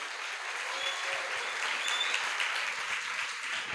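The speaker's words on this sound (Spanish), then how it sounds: "Le damos un aplauso a estas grandes actrices" An audience at a women's church convention applauds actresses after a performance, a steady wash of many hands clapping together, full and even throughout.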